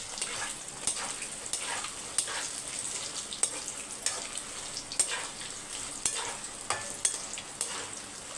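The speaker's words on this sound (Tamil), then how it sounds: "இப்போ மிக்ஸ் பண்ணி விட்டுருங்க." A spoon stirs a sizzling mixture in a pan, with soft frying hiss under regular sharp scrapes and clicks, roughly one per second, fairly quiet and close.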